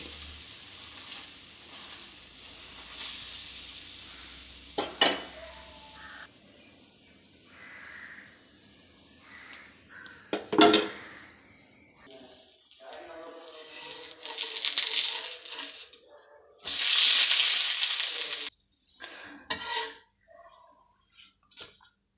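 Intermittent sizzling bursts of dosa batter on a hot pan rise and fade over a quiet kitchen background, with occasional clinks of utensils between the louder frying spells.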